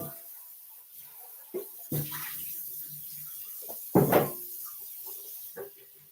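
Tap water runs and splashes into a container being rinsed out, heard as a few short sloshing bursts with quieter gaps between them.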